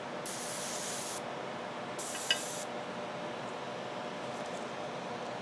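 An airbrush sprays Cerakote coating in two short bursts of loud, close hissing, the first about a second long and the second shorter, with soft room noise in between.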